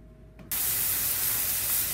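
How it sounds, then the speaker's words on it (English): Cooking spray sprays onto a tart pan while it is greased for a ham, asparagus and smoked cheddar quiche. A steady, close, loud hiss starts abruptly after a brief quiet moment and runs on without a break. "Now I'm gonna grease the pin"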